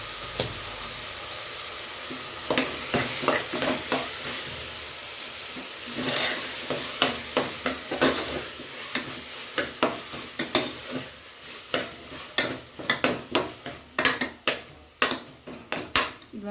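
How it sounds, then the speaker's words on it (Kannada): Spices and Kashmiri chilli powder fry on a low flame with a steady sizzle, while a spoon repeatedly taps and scrapes the pan in quickening clicks that build toward the end. "ಒಂದು ಎರಡು ನಿಮಿಷ ಸಿಮ್ಮಲ್ಲಿ ಫ್ರೈ ಮಾಡಿ"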